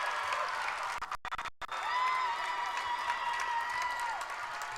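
High school basketball crowd in a gym breaking into applause and cheers after a made basket, a sustained roar with clapping; a commentator talks over it.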